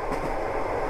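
A train runs in the video game Melon Playground with a steady loud rumble and faint clatter, constant and close throughout, with no voices.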